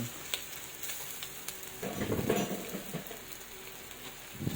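Fried rice stirred in a pan with two spatulas, a soft background sizzle swelling into a louder burst of scraping and frying around the middle before settling back down.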